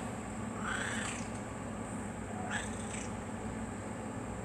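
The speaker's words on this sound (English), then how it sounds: "Hi, Mama Cat." A cat meows twice, softly and some way off, each call a drawn-out rising cry, heard over steady background hiss with no talk.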